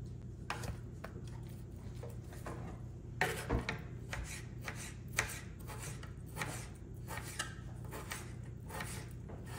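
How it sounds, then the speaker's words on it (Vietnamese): A knife taps and scrapes against a cutting board in irregular strokes, steady slicing through soft raw chicken with occasional sharper knocks. "tiếp tục xắt cho hết cục thịt gà này"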